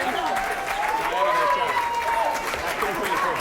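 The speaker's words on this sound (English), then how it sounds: "And the applause and the laudits for so much more than his game here" Audience applause ripples around the final table of the 2012 WSOP Big One for One Drop, a $1 million buy-in No-Limit Texas Hold'em poker event. It is steady and moderately loud, with a commentator talking over it throughout.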